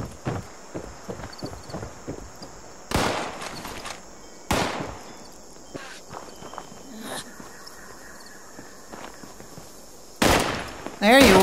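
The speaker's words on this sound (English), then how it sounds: "Some pesky dude down there shooting at me like crazy." Enemy gunfire in Fallout 76 rings out as a series of sharp cracks and bursts, some rapid and clustered, others spaced out, mixed with footstep-like clatter and louder blasts near the end.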